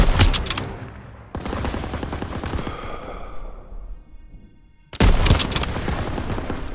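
Sustained machine gun fire in Call of Duty WWII, dense rapid bursts that thin out midway, drop briefly to near silence, then return loud and close.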